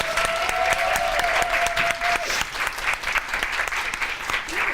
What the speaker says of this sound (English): let's give them a celebratory round of applause